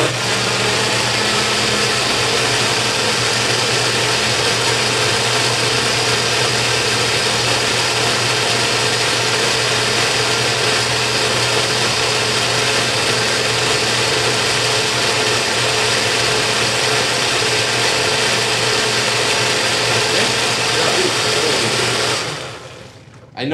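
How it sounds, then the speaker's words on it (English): A kitchen blender runs continuously at high speed, liquefying Peruvian huancaína sauce for papa a la huancaína, a loud steady whirring drone that cuts off abruptly at the end. "I know it's just hard to talk over the blender"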